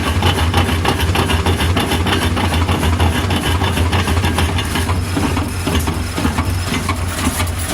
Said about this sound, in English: so the unloaded version of the engine versus the loaded